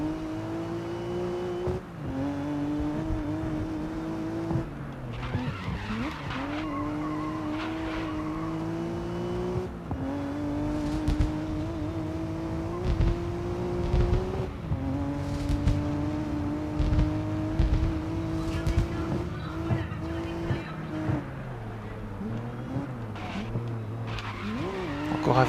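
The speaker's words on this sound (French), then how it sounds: "Encore un virage de raté et un freinage catastrophique." Race car in the racing game GRID Legends, engine droning and shifting pitch through a corner, with repeated tire squeals and skidding under heavy braking, continuous and fairly loud, with commentary spoken over it.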